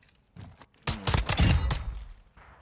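Rifle gunfire in a Call of Duty Modern Warfare 2 search-and-destroy match comes as a quick cluster of loud sharp shots and bursts, preceded by fainter game noise.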